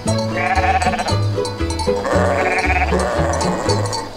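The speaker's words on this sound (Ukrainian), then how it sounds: "Ми овець випускаємо, пасемо цілий день, від зарі до темна." A flock of sheep bleats continuously on open pasture in the Odesa region, many overlapping voices calling loudly and close by, with repeated bleats rising and falling across the scene.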